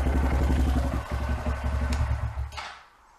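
Engine of a Honda Grom motorcycle running after a clutch, clutch plate and oil pump installation, a steady low idling rumble with clatter, close and loud, tapering off near the end.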